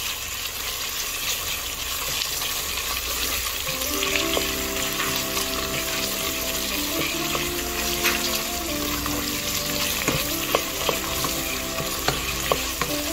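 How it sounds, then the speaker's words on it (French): Rice with beef and fresh shrimp sizzles in a pan while being stirred, a steady frying hiss with scraping and clinking of the spoon, under background music and without talk. "pendant que je suis en train de mélanger le tout, je vais baisser mon feu pour que ça ne crame pas aussi"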